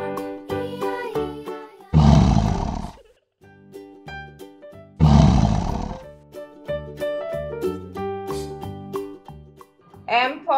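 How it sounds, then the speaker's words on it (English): A lion roars in a children's alphabet song, with two loud, rumbling roars a few seconds apart bursting over a bright, tuneful musical backing. "L for lion."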